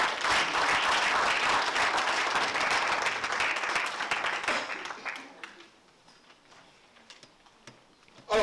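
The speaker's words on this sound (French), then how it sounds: "Applaudissons d'abord pour Dieu." A church congregation applauding, dense and loud at first, then thinning out and fading after about five seconds into a quiet room with scattered small sounds.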